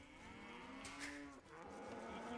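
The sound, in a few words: cow mooing in Age of Empires 2 video game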